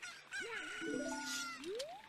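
A chicken in the video game The Legend of Zelda: Ocarina of Time gives a close, clear squawking cluck with a rising, warbling call, heard alone against quiet background.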